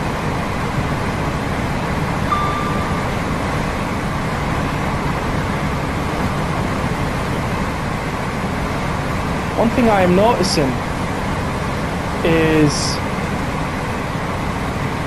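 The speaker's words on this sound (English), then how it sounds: "the sound of the wind against the train" Steady broadband rush of wind against a Class 805 train in the Train Sim World 6 game, constant and fairly loud, with someone speaking briefly over it.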